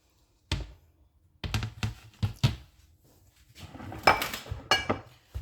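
A metal pan is handled while marinade is spread across its bottom for Korean-style kalbi ribs, giving sharp clanks and clinks in irregular bursts with quiet gaps between.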